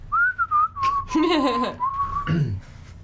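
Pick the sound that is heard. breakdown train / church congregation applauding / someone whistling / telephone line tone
someone whistling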